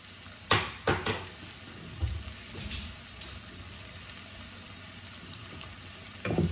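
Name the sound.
ginger garlic paste frying in a pan for fish curry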